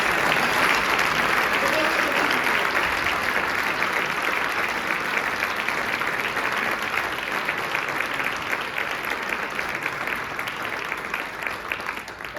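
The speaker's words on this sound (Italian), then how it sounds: "Chiedo un applauso per tutte le maestre d'Italia per il lavoro che fanno." Concert audience applauding for teachers, a dense steady wash of many hands clapping that lasts throughout and fades slightly toward the end, with no voices over it.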